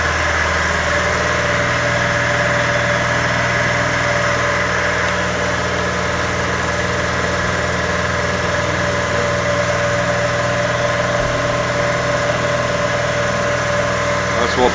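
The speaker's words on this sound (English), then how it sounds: "That's what pumps the oil in." A steady mechanical hum with a faint tonal whine runs unbroken from a pump feeding waste oil into a car waste oil furnace, close and constant for the whole stretch with no pauses.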